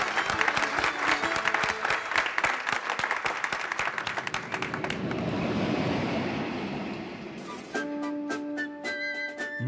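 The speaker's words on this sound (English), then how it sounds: "a round of applause" A studio audience at a model railway competition claps, bursts of sharp clapping giving way to a rumbling model train passing along the layout, then scattered claps and ringing tones near the end.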